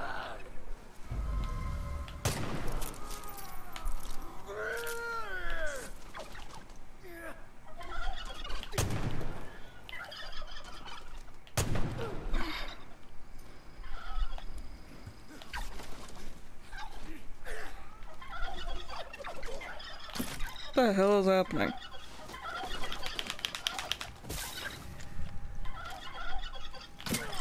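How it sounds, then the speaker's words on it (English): Turkeys gobble in Far Cry 5, repeated loud warbling calls in bursts amid sharp game impacts and gunfire-like thumps, with a person exclaiming at one point. "Didn't expect to be bum rushed by turkeys."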